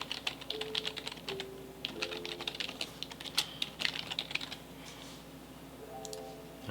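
Fingers typing on a computer keyboard while making a design in Canva, quick light clicks in uneven bursts, close and fairly quiet, with no talking.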